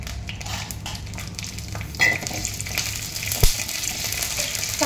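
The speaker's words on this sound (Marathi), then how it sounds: "आणि तेलामध्ये कणी भाजून घ्यायचं." Broken rice roasting in a little hot oil for a spicy kharda, giving a steady close crackling fry with a couple of sharper scraping clinks from a spoon or pan partway through.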